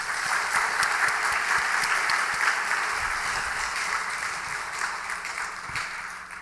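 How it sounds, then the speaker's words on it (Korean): A church congregation at a Sunday evening service breaks into sustained applause of thanks, dense and steady throughout, fading slightly at the end. "감사의 박수 한번 하십시다"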